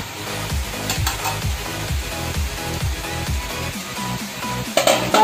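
Torn parotta pieces hit a hot oiled pan for road-side style kothu parotta, with a steady run of loud rhythmic clanks and scraping stirs over a continuous sizzle.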